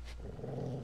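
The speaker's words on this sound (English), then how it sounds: "Is that a dog?" A dog growls low and close in The Walking Dead: Season 2 video game, a short rumbling snarl lasting under a second.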